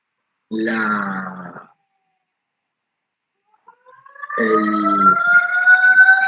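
An ambulance siren passing outside, a wailing tone heard twice: a short burst, then a gap of near silence, then a longer rising and steady wail that grows louder and holds to the end.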